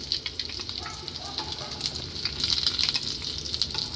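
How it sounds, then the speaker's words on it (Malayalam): Boiled eggs frying in oil for a Karnataka-style egg roast make a dense, crackling sizzle with scattered pops that swell in the second half, steady and close, with no one talking. "ഇനി നമുക്ക് അടുത്ത സൈഡൊന്ന് തിരിച്ചിട്ട് കൊടുക്കാം ചെറുതായിട്ടൊന്ന് ആ കളറൊന്ന് മാറി കിട്ടിയാൽ മുട്ട രണ്ട് സൈഡ് റെഡി ആയിട്ടുണ്ട്"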